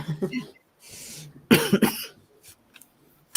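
Several harsh coughs in quick succession, close and loud, with brief speech before them and a wheezy breath in between.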